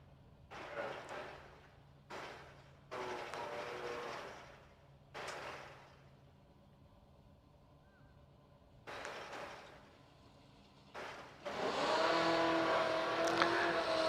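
Drag racing cars at an IHRA Summit Racing SuperSeries World Finals event launching at full throttle, several distant roaring bursts separated by quiet gaps, ending in a sustained loud climbing engine roar.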